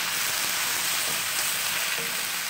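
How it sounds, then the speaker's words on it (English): Mushrooms frying in a pan for a chicken, broccoli and mushroom stir fry, giving a steady, dense sizzle that holds evenly throughout with no voices. "I'm gonna cook the mushrooms until they start to soften"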